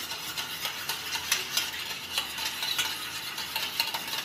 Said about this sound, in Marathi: हे सर्व मिक्स करून घेऊया।